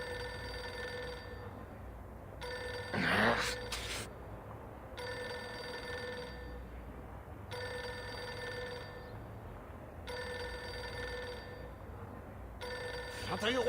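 A telephone rings in the video game Reverse: 1999, repeating bursts of ringing in a steady rhythm, about every 2.5 seconds, with a brief louder clatter of noise partway through.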